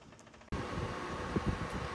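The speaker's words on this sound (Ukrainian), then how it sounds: "кондиціонер працює" A newly installed air conditioner starts up abruptly after a quiet moment, then runs as a steady, loud, broadband whoosh and hum close by.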